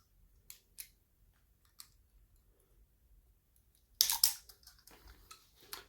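Snipping through the remaining piece of a hose during a chainsaw fuel tank change, a few faint crisp clicks and then a louder burst of close cutting crunches near the end.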